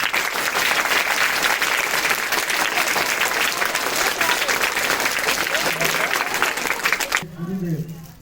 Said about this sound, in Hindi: इनके सम्मान में जोरदार ताली बजाएं आप